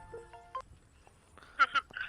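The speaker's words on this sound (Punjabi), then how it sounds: "ਇਹਦਾ ਫੋਨ ਆ ਗਿਆ" A short electronic mobile phone ringtone melody of clear tones plays, followed by a brief burst of voice.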